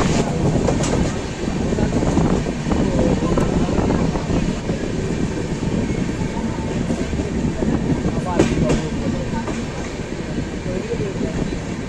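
A Jammu Tawi Express passenger train runs on rails near Durgapur, giving a steady, moderately loud rumble with faint clicking wheel beats throughout, heard from on board.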